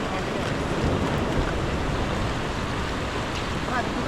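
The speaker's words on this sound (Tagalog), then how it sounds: "Lumalaki ang alon." Ocean waves building and surging in a continuous wash of surf mixed with wind rumble, loud and close throughout, with no clear voices over the churning water.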